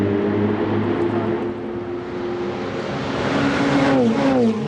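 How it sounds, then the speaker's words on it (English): Ferrari Challenge race cars at Monza roar past a trackside camera during a Trofeo Pirelli race, engines loud and sustained with a rising, pitch-shifting whine as they sweep by close. "What a sound as those cars roar past our camera position there."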